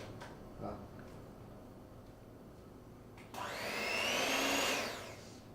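An electric mixer whisks a chocolate tart filling, switching on partway through with a rising whir that stays loud and close for a couple of seconds before easing off.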